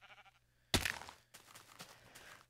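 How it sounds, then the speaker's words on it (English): A Minecraft sheep bleats once, a short clear bleat up close, followed by softer blocky game sounds and quiet background noise. "Get out of my way, sheep."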